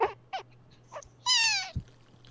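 A cat yowls in protest while its nails are being trimmed, a drawn-out wavering meow near the middle, with short scuffles and a voice-like yelp around it, fairly close and loud.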